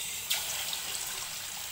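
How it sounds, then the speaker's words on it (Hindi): Marinated sardines dropped into hot oil and frying, heard as a faint, continuous hissing sizzle that stays even throughout, with one brief crackle near the start. "अब ऑयल अच्छी तरह गर्म हो गया, मैं अच्छे गर्म ऑयल में इसको डाल दूंगी"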